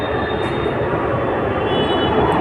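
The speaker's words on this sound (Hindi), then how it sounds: "वो अपोजिट प्लेटफॉर्म की है, ठीक है, वो मेरी मेट्रो है" A metro train rumbles steadily at an opposite station platform, a loud, continuous roar of wheels and motor noise filling the space with no voices over it.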